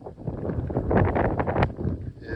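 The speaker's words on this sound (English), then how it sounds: "Maybe you can hear the wind." Wind gusts buffet a microphone outdoors on an autumn day with worsening weather near Eijsden by the Meuse, a steady, close, rumbling roar swelling and easing over a couple of seconds with no talk.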